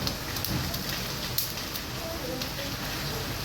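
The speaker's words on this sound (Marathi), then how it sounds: "बाहेर पडते मस्त पावसाचा आवाज येत असेल तुम्हाला" Monsoon rain pours outside a home while corn roasts on a gas flame indoors, a steady dense hiss of drops with scattered sharper patters, continuous throughout and without speech.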